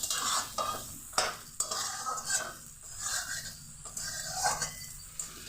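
Potatoes fry in a pan with steady sizzling while a utensil stirs and scrapes against the metal in several sharp, close knocks; no one speaks.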